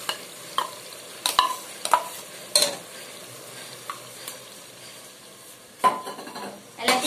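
Ginger garlic paste frying in oil for chicken biryani, a low sizzle broken by distinct clanks and scrapes of a spoon stirring against the pot, several sharp knocks spaced irregularly, close by with no speech.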